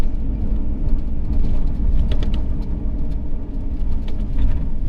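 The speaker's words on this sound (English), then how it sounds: "Just take a casual drive down here." A car drives along the Norfolk coastal road near Great Yarmouth, its engine and tyre rumble steady and close throughout, with no talk.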